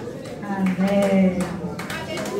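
A church congregation claps together under a voice speaking, with steady applause running through the short moment.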